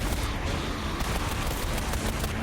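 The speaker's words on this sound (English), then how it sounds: "You hear the explosion and it seems to slow down." A game explosion in a VRChat roleplay session sounds as a dense, sustained rumbling blast with crackling bursts, loud and continuous for a couple of seconds with no talk.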